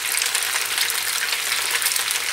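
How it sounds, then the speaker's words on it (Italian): Zucchini and pasta fry in oil in a pan, giving a continuous bright sizzle with a steady crackling hiss throughout, close and fairly loud with no talking. "Adesso dobbiamo rimettere nell'olio quasi tutte le zucchine"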